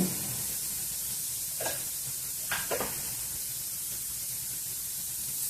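Bitter gourd curry sizzles steadily in a pan after a little oil is added, a close, even hiss with a few brief louder bursts of spitting midway.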